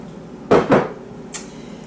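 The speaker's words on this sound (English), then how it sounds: "In the oven it goes." A baking dish of cornbread dressing goes into the oven with two quick heavy clunks close by, followed a moment later by a lighter knock, with no one talking.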